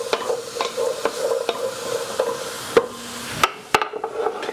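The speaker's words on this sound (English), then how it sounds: "We're going to give it a good stir." Garlic, celery, carrot and onion are stirred with bacon in a pot, giving a soft sizzle with repeated scraping strokes and spoon clinks against the side, followed by a few sharper knocks.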